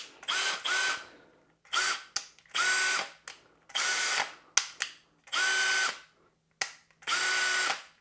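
A Makita cordless drill on low battery whirring in six short bursts of steady high-pitched motor whine, close and loud, with brief pauses between triggers.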